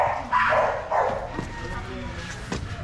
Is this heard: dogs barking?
yes